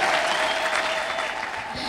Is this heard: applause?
yes